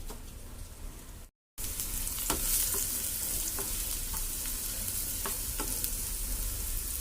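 Chopped onions and green chillies frying in a pan for a potato and tomato curry make a soft, continuous sizzle with scattered scraping and clicking from stirring, broken by a brief moment of silence early on.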